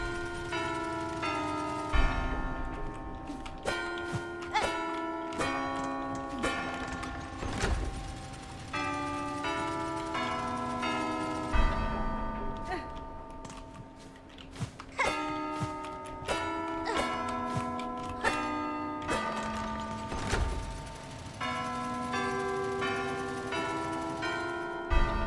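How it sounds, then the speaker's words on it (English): Layered bell tones with dense harmonic overtones ring out repeatedly in the video game Hollow Knight: Silksong, struck in an irregular series of bright chimes that overlap and decay over steady ambient music, with no talking. "this seems to be like another one of those bell things that I've done before"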